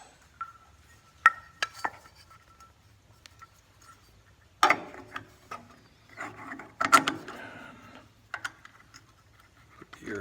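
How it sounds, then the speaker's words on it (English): Sparse metallic clicks, rattles and clunks come from close up as the air cleaner is fitted back onto a Yard Machines 10HP wood chipper engine, with quiet gaps between the handling noises. "Air cleaner back on."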